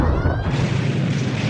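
A sci-fi spoof show's phaser blast fires as a loud, dense burst of crackling noise, opening with a brief falling electronic tone and then sustaining as a rough roar to the end.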